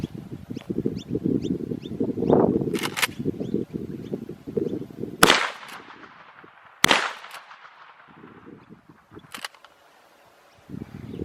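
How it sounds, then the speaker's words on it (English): Two sharp, loud gunshots ring out a little over a second apart from a 44 Magnum Marlin 1894 lever-action rifle, each cracking close and fading into outdoor quiet, with wind noise and rustling before them. "that was the first shot, that was the second shot"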